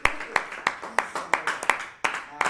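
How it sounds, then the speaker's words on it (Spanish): Church congregation clapping in unison, about eight sharp, evenly spaced claps in a steady rhythm, close and fairly loud. "Fuerte el aplauso,"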